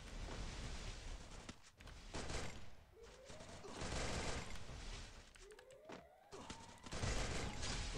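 Bursts of video game gunfire in rapid volleys over a noisy background, with brief whooshing sweeps between them; no talking.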